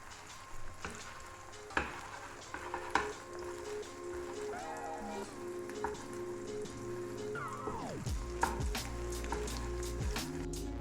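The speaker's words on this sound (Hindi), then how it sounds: "अंडा हल्का सा फ्राई हो गया, इसको मैं इस तरह तोड़ लूँगी" Egg frying in a pan while being broken up for restaurant-style egg fried rice: a steady close sizzle runs throughout, with scattered scraping and tapping from a utensil stirring and breaking the egg.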